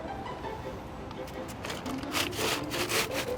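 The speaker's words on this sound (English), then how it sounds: "Do you mind actually wiping your feet?" Feet scuffing and rubbing on a mat inside a small single-bedroom tent, a few rough swishing strokes growing louder toward the end, close by.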